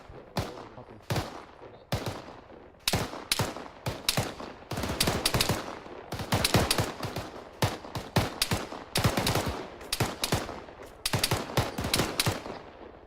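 Gunfire in a military shooter video game: rapid bursts of close, loud shots crack in clustered volleys with short gaps, sustained automatic fire dominating the whole stretch.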